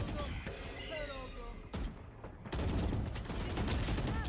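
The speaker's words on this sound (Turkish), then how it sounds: "Lawrence orada Aslı ultisinden gir yaparken Krax'ı vurdu ama Kivi de onu yakaladı" Gunfire in the video game Valorant during a VCT 2022 esports match, bursts of shots and rapid fire mixed with game effects, with a caster talking over the action.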